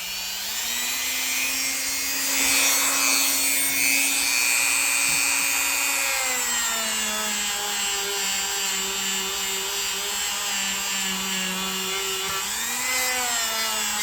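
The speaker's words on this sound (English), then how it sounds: "So I'm just going to go over it one more time here with some rubbing compound." Old jack knife blade being buffed with rubbing compound on a power polishing wheel, a steady loud whine with sustained tonal hum that dips in pitch midway and rises again near the end, continuous throughout.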